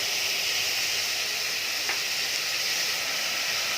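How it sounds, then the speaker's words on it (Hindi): Onions fry in a pan over a high gas flame, giving a steady, broad sizzle and hiss that carries on evenly without a break, with no voices. "5 मिनट मैंने प्याज को भून लिया"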